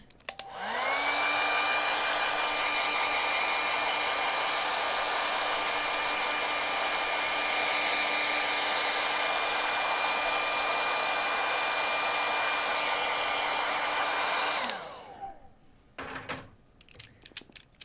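Hair dryer blowing on wet watercolor paint on a rose painting, a loud steady whooshing drone that spins up, holds for about fourteen seconds, then winds down, followed by faint clicks and handling noises.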